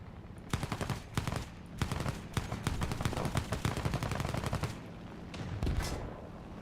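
Rapid bursts of machine-gun fire and cannon shots from aircraft and tanks in War Thunder, loud and dense, coming in repeated volleys with brief pauses between.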